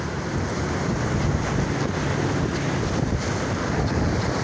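Strong typhoon wind roars continuously against the microphone while heavy surf crashes and hisses in the background at Aruma Beach, Occidental Mindoro, Philippines, a dense, unbroken wall of noise.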